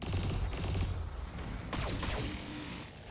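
Mech autocannons firing in the Battletech video game, AC-5 guns letting off a dense burst of heavy booming shots with crashing impacts, loud and continuous over a rumbling background.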